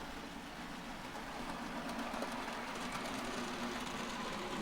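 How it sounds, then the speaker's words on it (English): N gauge model train running around a layout, a quiet steady rumble and faint rail clatter with a soft higher whir, continuous and low in level without any speech. "The train now departing from Harrington Station."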